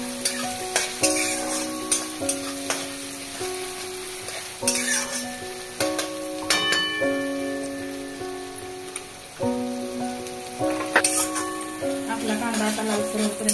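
Chopped onion frying in a pan for rajma, sizzling steadily while a spoon stirs and scrapes in repeated strokes, heard close under a recurring musical tone.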